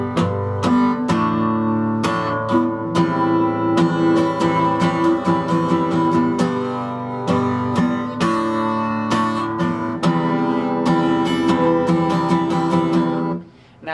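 A guitar strums the rhythm pattern of a song: full chords with steady, even down and up strokes that continue for several bars, close and loud, then cut off abruptly at the end.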